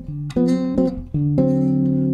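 A bass guitar plays a dominant seventh chord in a choppy funk rhythm: several short, punchy stabs with brief gaps, then a longer held strum, loud and close with no talking.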